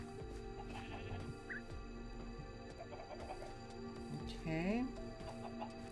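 Chickens cluck in a Minecraft world, a few soft intermittent clucks and one rising squawk, faint beneath someone talking.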